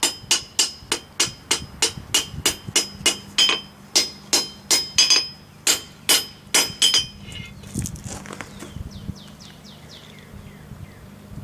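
Hammer striking hot steel on an anvil to put a bevel on a forged bulldog knife, a close, loud, evenly spaced series of ringing metallic blows that slows, fades and ends in lighter taps.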